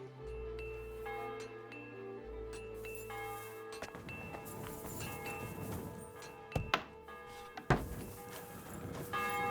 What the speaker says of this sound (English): that bell is just having at her